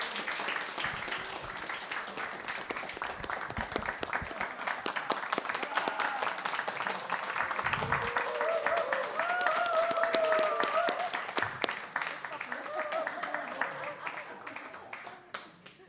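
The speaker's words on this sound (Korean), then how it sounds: "큰 박수로 그냥 맞이해 주시기 바랍니다" A lecture audience claps to welcome a speaker at a Bible and science talk. The applause is dense, steady and sustained, with a voice faintly heard amid the clapping.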